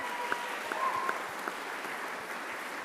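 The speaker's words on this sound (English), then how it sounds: "give your teachers a round of applause" Audience applause for the teachers at a school music day morning session, a steady wash of clapping at moderate level with a few sharper claps standing out, continuous and unbroken across the short stretch.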